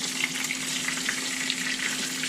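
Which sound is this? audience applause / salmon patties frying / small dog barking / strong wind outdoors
salmon patties frying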